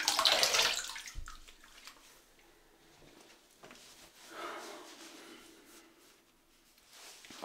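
A razor is rinsed under a running tap: a strong gush of water at the start, then quieter trickling and light splashes.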